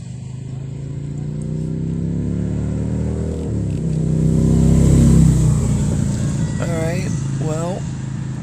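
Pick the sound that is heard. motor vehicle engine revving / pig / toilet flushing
motor vehicle engine revving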